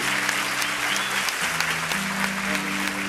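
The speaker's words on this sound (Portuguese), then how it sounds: "Vamos aplaudir" Congregation in a church breaks into full, continuous applause during a sermon, the crowd's clapping layered over held low keyboard or organ notes.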